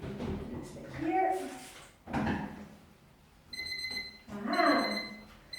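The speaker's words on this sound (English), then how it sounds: "that's my timer going off" A kitchen timer beeps in steady high tones, the repeated beeping joined by someone talking and some handling noise.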